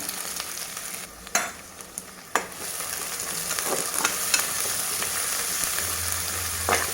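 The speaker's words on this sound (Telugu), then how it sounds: "వీటిని బంగారు రంగులోకి వచ్చేదాకా వేయించుకునేసి ఈ ఆనియన్స్ మంచి ఫ్లేవర్ ఇస్తాయండి కూరకి" Chopped onions frying in a pan with salt for a sheep-head curry, a steady close sizzle throughout with a few sharp clicks and stirring scrapes, no voices.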